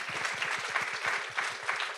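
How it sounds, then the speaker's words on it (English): Audience applause at an anniversary celebration event, a steady wash of many hands clapping throughout, with no voices heard over it. "So let's give them a round of applause."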